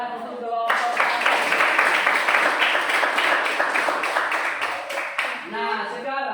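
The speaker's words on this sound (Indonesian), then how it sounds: "berikan tepuk tangan untuk kelompok" A classroom audience claps for a student group after its presentation, steady dense clapping lasting several seconds before fading, with a few voices around the edges.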